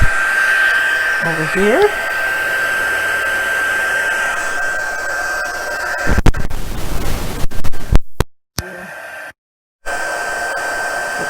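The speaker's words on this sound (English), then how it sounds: "Get that set with the heat emboss tool." A heat embossing tool blows hot air in a loud, steady whooshing drone close to the mic for about six seconds, then sputters and cuts in and out; a voice speaks briefly near the start.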